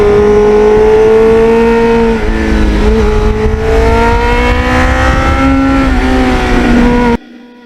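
A 1989 Kawasaki Ninja GPX750R motorcycle under hard acceleration, its engine a loud, close, steady drone whose pitch climbs across several gear pulls, ending abruptly with no voices.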